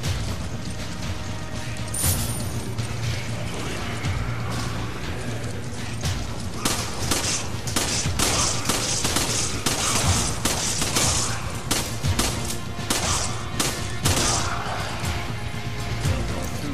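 Rapid gunfire in Resident Evil 5, loud repeated shots and impacts over a low droning background, with bursts scattered throughout.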